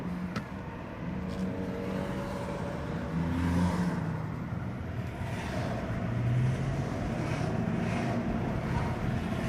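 A Jaguar S-Type 3.0 V6 Sport with an automatic gearbox accelerates on the road, its engine drone rising and holding steady under broadband road and wind noise, close and continuous with no talk.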